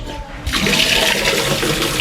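A toilet in a campsite restroom flushes with a strong rush of water that starts abruptly after a brief quiet moment and continues loud and steady.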